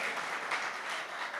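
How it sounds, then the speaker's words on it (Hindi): Steady, fairly faint applause from an audience at a Hindi poetry recital (kavi sammelan), continuous crowd clapping without any pause. "आप ताली बजा रहे हो"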